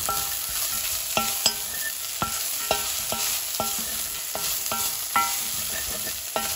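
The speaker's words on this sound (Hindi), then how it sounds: "आनी आतां हांव फ्लॅट रायस वो फोव घालया दोयेले आनी बरो मिक्स कर" Flattened rice (poha) being stirred in a pan for batata poha, with a steady run of distinct scraping strokes over a soft background sizzle, close and fairly loud, no talking.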